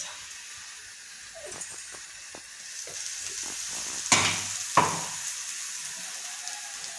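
Chopped onion sizzles in a pan as masala is added, a steady hissing fry with soft stirring scrapes and two sharp bursts of louder crackle when the spices hit the oil, with no talking.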